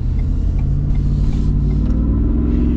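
A 2023 Shelby F-150 Super Snake Sport pickup truck engine roars loudly and continuously under hard acceleration, a deep, steady rumble close by with no talking.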